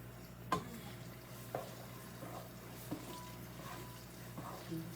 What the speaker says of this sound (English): Now do another quick stir.